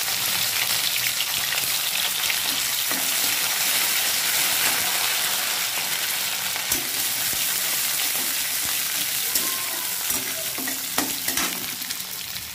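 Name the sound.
onion and fenugreek frying in a pan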